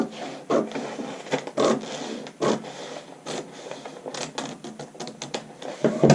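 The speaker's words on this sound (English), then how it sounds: "I'm going to go ahead and cut that new shoulder princess seam piece" Scissors cut out a paper sewing pattern piece for a princess seam jacket, an uneven run of close, crisp snips and papery rustles in short bursts with brief pauses, no talk.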